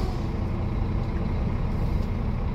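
A truck with air brakes near a ferry crossing gives off a steady, close, broadband rumble that holds at an even level throughout, with no voices.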